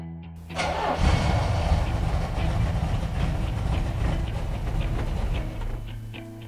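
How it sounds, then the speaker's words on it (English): A car fitted with power brakes is cranked and fires up after a brief pause, the engine catching into a loud, rough idle close by that holds steady and fades a little near the end. "So after firing the car up, pedal did drop as we were hoping"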